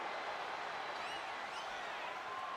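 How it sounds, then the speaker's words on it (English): Capacity arena crowd in the WWE 2K25 video game during a no-holds-barred match, a steady, fairly faint wash of cheering and roar with a few rising whistles. "do you hear this capacity crowd? They want more from Stone Cold"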